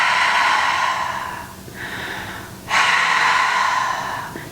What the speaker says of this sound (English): see if you can breathe out like you're trying to fog up your sunglasses